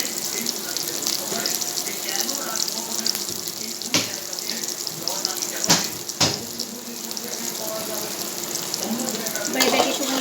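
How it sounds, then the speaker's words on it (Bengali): Sugar frying in hot oil in a pan for Bengali-style mutton kosha, a steady close sizzle and hiss running the whole time with a few sharper crackles and spits. "এবার এটাকে একটু ভেজে নেবো।"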